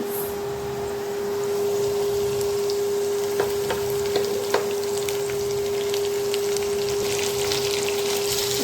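Mixed vegetables, including beans, frying in a pan for vegetarian chow mein, a steady close sizzle with a constant hum underneath and a few sharper crackles and pops partway through.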